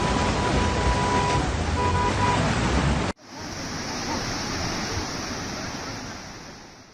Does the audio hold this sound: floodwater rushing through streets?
yes